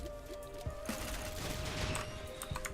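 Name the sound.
explosions from items in the video game Risk of Rain 2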